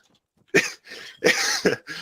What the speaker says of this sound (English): Every time I cough, I hiccup.